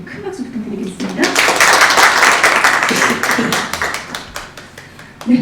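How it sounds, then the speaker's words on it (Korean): A studio audience at a live Korean talk show gives loud, sustained applause that swells early, holds thick and even, then thins into scattered claps near the end. "큰 박수 부탁드리겠습니다"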